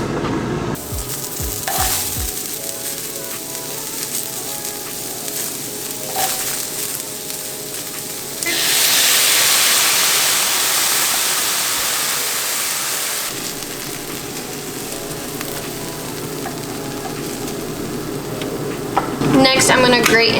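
Food drops into a hot frying pan during a quick vegan meal and sets off a loud, steady sizzle that holds and then eases, with a voice briefly heard at the start.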